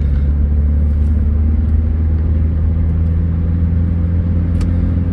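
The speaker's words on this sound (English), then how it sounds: "I apologise for the engine noise as well, because I've got an old Hyundai i10" A 2008 Hyundai i10, old and noisy, drones from inside the cabin while driving, a steady loud low rumble of engine and road noise with no talking.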